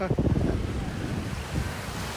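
Surf rolls in at JBR beach in Dubai with a low, rushing wash, mixed with buffeting wind noise against the microphone.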